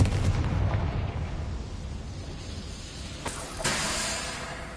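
A Confringo fire spell blasting in Hogwarts Legacy: a booming, rumbling explosion that decays into a long hiss, followed by two sharper bursts near the end, with no talking over it.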